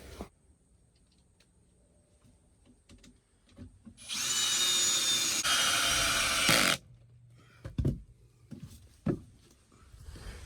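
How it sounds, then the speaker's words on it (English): A power drill drives screws into a stationary hunting blind: quiet handling, then one loud continuous high whine for about three seconds that cuts off, followed by scattered knocks and clunks. "I'm going to get this thing all screwed in"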